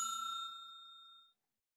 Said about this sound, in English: Well, that was the double bell.